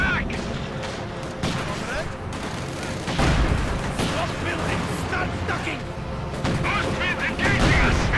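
Rapid gunfire and bursts of explosions from grenades in a Company of Heroes 2 battle, a dense continuous barrage of shots and booms mixed under an ongoing commentator voice.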